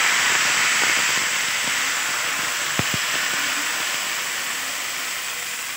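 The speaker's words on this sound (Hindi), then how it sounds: "तो अब हम इसमें बैटर को पोर करेंगे। काविल हमारी अच्छे से गर्म हो गई है।" Ghavna batter poured onto a hot iron pan sizzles with a steady, loud broadband hiss that fades slowly, marked by a couple of brief clinks midway.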